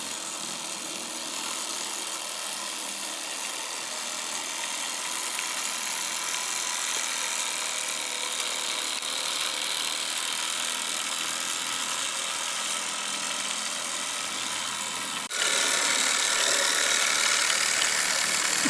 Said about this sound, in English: the engine runs for about 8 minutes in total on the track